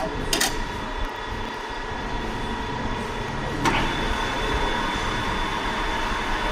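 A metal lathe runs at a steady drone with a constant mechanical hum and high whine, close and even throughout, broken only by a couple of brief clicks.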